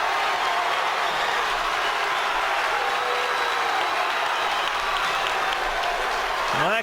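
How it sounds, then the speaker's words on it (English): A high school boys' basketball crowd roars after a slam dunk, a loud, dense, sustained cheer filling the gym from start to finish. "That's a crowd going"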